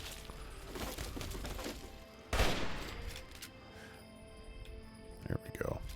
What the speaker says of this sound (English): What the hell was going on with that assault rifle?